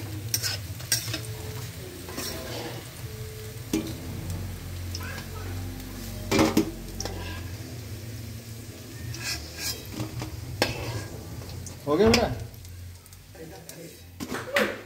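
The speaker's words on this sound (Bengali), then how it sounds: "এইভাবে আমি সবগুলো পকোড়া ভেজে নিচ্ছি" Pakoras frying in oil give a continuous soft sizzle, with spoon stirring and utensils clinking against the pan while someone talks.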